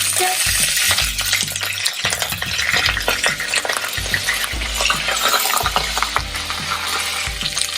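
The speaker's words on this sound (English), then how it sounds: "Now to this, I'm going to add a few curry leaves." Curry leaves and cumin seeds crackle and sizzle in hot oil, a dense spluttering hiss with irregular pops and repeated metallic scrapes from stirring, loud and close throughout, without any speech.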